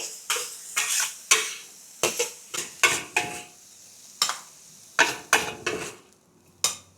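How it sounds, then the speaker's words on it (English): Peas are stir-fried in a wok while a metal spatula scrapes and clanks against it in a quick, uneven rhythm. The close, crisp strikes sound over a faint sizzle, with no talking. "Stir fry it for about half to 1 minute"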